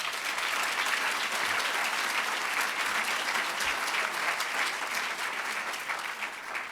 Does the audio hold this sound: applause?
yes